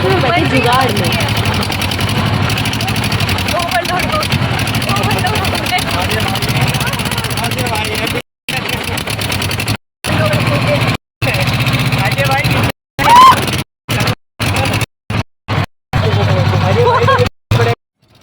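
A jugaad farm vehicle rumbles along through fields in Rajasthan, its engine droning steadily and near, with someone talking over it and brief breaks toward the end.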